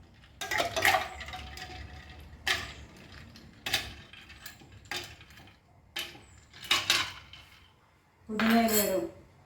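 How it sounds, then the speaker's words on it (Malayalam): Ice cubes dropped into a jug of lemon-juice iced tea, giving a series of sharp clinks and clatters in separate bursts, close and fairly loud, with quiet background between drops. "ഇനി ഇതിലേക്ക് ഐസ് ഇട്ട് കൊടുക്കാം"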